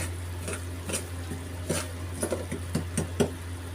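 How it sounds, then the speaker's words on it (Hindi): Semolina roasts in a pan over a low flame for halwa, with a soft dry sizzle and a series of scraping stirs and light spoon taps against the pan. The sounds are quiet and sit over a low steady hum. "ये देख रहे हैं आप, ये सूजी हमारी भुनने लगी है स्लो आंच के ऊपर"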